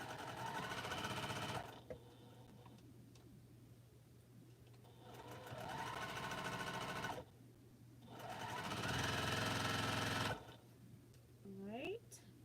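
A sewing machine joins a row of quilt blocks in three separate bursts of steady close stitching. A person talks in the pauses between the runs.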